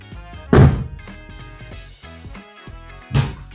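Two solid, heavy thuds from the door of a Mazda Miata NA being slammed after new door bushings were fitted, one near the start and one near the end, close by over a steady tonal background.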